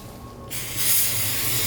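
An aerosol cleaner can sprays in a steady, close hiss that starts abruptly and continues without a break, with no talking, during a brake rotor and pad job on a 1999 Mazda Miata MX-5.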